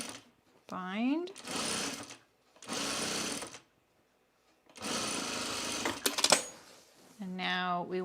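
A sewing machine binds vinyl for a tool case, running in several bursts of rapid stitching with pauses between, while a person talks in the gaps.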